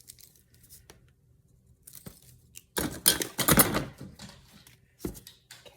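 A sheet of paper being cut down to size, starting with quiet scattered rustles and light snips, then a loud close burst of cutting and tearing noise near the middle, followed by a last short crisp cut, with no talk.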